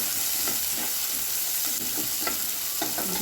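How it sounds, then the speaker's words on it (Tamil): Sliced onion sizzles and fries steadily in hot oil in a pan while being stirred, a continuous close hiss with occasional stirring scrapes. "இப்போது அது நல்லா ஆயிலில் ஃப்ரை ஆனதுக்கப்புறம் ஆனியன் போட்டுக்கோங்க"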